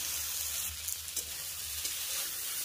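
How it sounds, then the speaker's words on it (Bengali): Poppy seed paste ground with green chilies sautés in a pan, giving a steady close hiss and sizzle throughout, with no talking. "এবার একটু কষিয়ে নেব, কষিয়ে নেওয়ার পরে জল ঢেলে দেব।"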